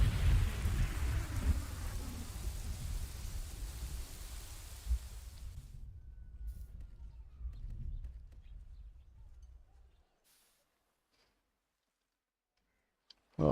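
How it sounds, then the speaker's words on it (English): Steady rain with low thunder rumble in the medieval city-builder game Kingdoms and Castles, loud at first and fading out to near silence about ten seconds in, with a faint click near the end. "Alright, well, the storm's over."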